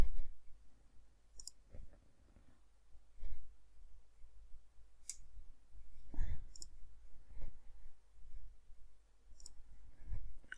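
Computer mouse clicks while working in Siemens NX CAD software, a few isolated sharp clicks spaced seconds apart over quiet room noise and faint breathing.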